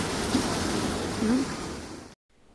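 Surf at Sand Beach in Acadia washes in as a broad, steady roar of breaking waves, fairly loud and close, ending abruptly in near silence.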